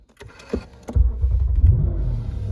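A 2009 Lexus LS 460L sedan starts with a few clicks and a thump, then its V8 engine rises into a steady low rumble that stays close and loud as the car sets off.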